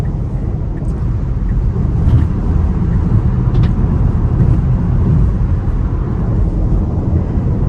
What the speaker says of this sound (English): See, it's just driving right around the corner for you.